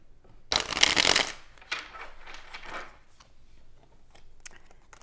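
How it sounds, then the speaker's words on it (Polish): Tarot cards are shuffled close by: one loud riffling burst, then several softer bursts of card flicks and slides that fade off toward the end. "a ja już tasuję karty dla pierwszej srebrnej grupy"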